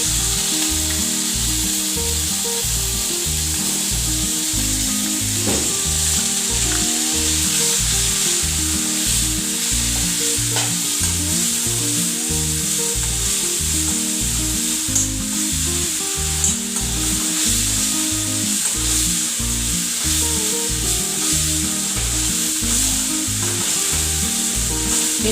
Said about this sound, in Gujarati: હવે આપણે કઢી પત્તા નાખીશું. જે આપણે આદુ લસણ મરચાંની પેસ્ટ લીધી છે